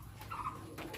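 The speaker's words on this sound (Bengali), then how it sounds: "ওই যে ডাকতেছে বোম্বাই, খুব সুন্দর একজন কবুতর।" A Bombay pigeon cooing close by: two short, soft, hollow coos in quick succession over a faint, steady background hum.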